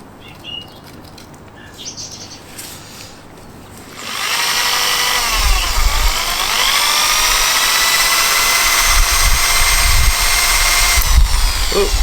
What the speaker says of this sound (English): Maybe I'll just give it a little bit more of a hone.